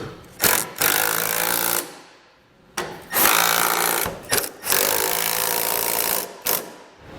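A power tool whirs in several buzzing, rattling bursts of a second or two each as trailer hitch bolts are snugged down on a 2018 Ram ProMaster City, with short gaps between runs.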